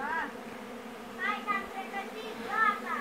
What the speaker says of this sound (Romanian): Deci, pe aici intrau toate albinele.